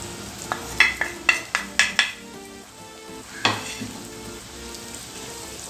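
Ground masala fries in a pan for a black quail curry, with a run of sharp spoon clacks against the pan, then steady sizzling and occasional stirring scrapes, close up and without talking.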